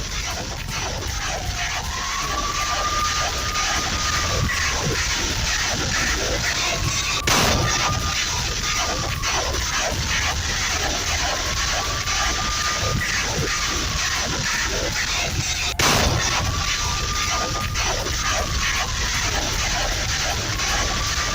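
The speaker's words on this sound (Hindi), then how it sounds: "रशियन फोर्स ने कुछ इस तरह ग्रैड MLRS से अटैक किया।" A Grad multiple-launch rocket artillery barrage fires from the field: a continuous roaring rush of rockets leaving in quick succession, with repeated rising whooshes and two heavier booms, loud and unbroken throughout.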